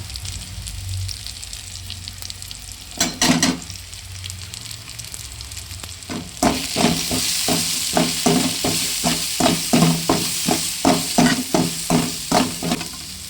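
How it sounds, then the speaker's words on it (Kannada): Masala stirred into hot tempering for hotel-style dal fry crackles and sizzles, with a quiet stretch early on, then a louder, steady hiss punctuated by rhythmic scraping strokes of a spoon in the pan. "ಇನ್ನು ರೆಡಿಯಾಗಿರೋ ಒಗ್ಗರಣೆಗೆ ಮಸಾಲೆನ ಹಾಕ್ತಾ ಇದ್ದೀನಿ"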